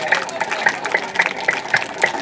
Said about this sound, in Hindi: दो मिनट ताली बजा लिया करिए ऐसे